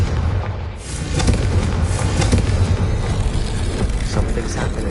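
Confringo blasting spell in Hogwarts Legacy, a loud booming explosion swelling into a sustained roaring rumble of debris and echo that fills the whole stretch.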